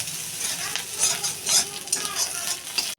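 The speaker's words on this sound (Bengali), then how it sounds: "কড়াই তেল দিয়ে দিয়েছি, দিয়ে একটু লঙ্কা দিয়ে আমি এখন এটাকে ভাজছি।" Chilli and chopped ginger fry in hot oil in a wok with a steady loud sizzle, while a utensil stirs and scrapes through the pan in uneven strokes.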